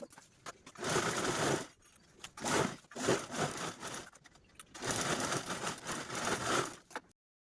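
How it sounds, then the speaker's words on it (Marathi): A sewing machine stitches the side edges of an old gown in three bursts of close, whirring running separated by short pauses, then stops. "ही जी कडेची साईड आहे त्या अगोदर स्टिच करून घ्यायची आहे दोन्ही साईडच्या"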